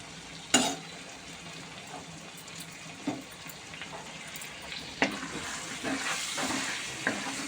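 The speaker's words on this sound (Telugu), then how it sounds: "ఇది కూడా మూత పెట్టుకొని ఇలా కాసేపు ఫ్రై అవనిద్దాం." Chicken fries in a pan with onion tomato paste and ginger garlic paste for mandi biryani, a soft steady sizzle broken by a few sharp clinks and scrapes of a utensil, no talking.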